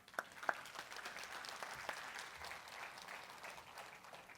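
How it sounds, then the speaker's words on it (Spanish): A church congregation claps in a steady, faint wash of applause, with a couple of sharper claps standing out at the start. "Dele ese aplauso al Señor."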